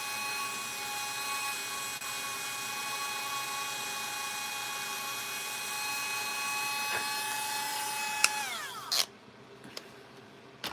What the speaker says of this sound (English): I'm going to go back in here with this drill bit, and I'm going to ream it out just a tiny bit.